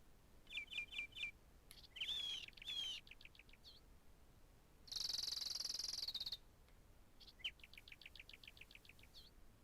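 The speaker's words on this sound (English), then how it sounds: "birds" Small birds in the Bassmasters 2000 fishing game chirp in quick repeated trills and tweets, with one longer, bright warbling burst in the middle, all fairly faint over a quiet background.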